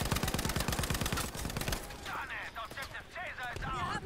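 Automatic rifle fire in Battlefield V, a fast rhythmic burst of close, loud shots that stops partway through, followed by ongoing battle noise and scattered sounds.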